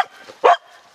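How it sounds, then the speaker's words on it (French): A truffle-hunting dog lets out one short, sharp bark close by after finding a truffle, with only faint, soft sounds before and after it. "quand elle aboie, c'est qu'elle a trouvé"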